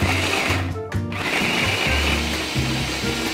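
A blender whirs loudly as it chops leftover day-old bread into breadcrumbs, a steady motor drone with a brief pulse break and shifting chopping texture, close up.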